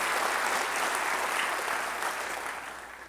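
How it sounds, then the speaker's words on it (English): An audience at a mayor's development forum in a convention center claps together in a full, steady burst of applause that gradually tapers off near the end, with no speech on top. "Let's give them a big round of applause for their work."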